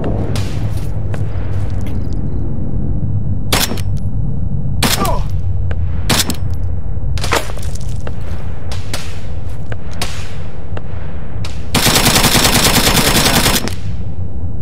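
Loud gunfire in the combat video game Arma 3 on the island of Stratis, with sharp single shots scattered through the clip and a sustained automatic burst near the end, set against a constant dense background.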